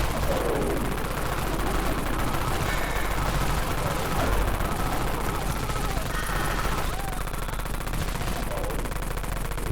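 Dawn Mag gun in the zombie shooter Dead Frontier fires sustained rapid bursts amid dense gunfire from other weapons, a continuous loud chattering roar with no pauses across the whole stretch.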